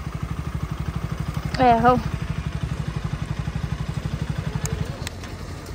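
A motorcycle engine putters in a steady, close rhythmic idle at Tarey Bhir near Namchi in South Sikkim, with someone talking over it and a brief tonal squeal partway through.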